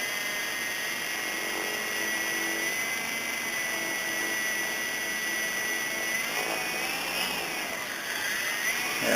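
Exceed-RC Blazing Star RC helicopter with rotors spinning, a steady high-pitched motor whine and rotor hum held throughout, close and continuous, rising slightly near the end.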